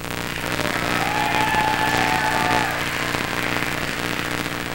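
Audience at a comedy show in the Stardome bursting into applause and cheering, a dense, loud, sustained wash of clapping and crowd noise that swells in the middle and keeps going throughout.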